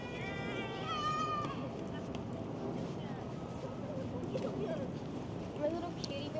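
A pet cat meows a few times in quick succession, a short rising-and-falling call near the start, with faint scattered sounds after it over a steady background of outdoor ambience.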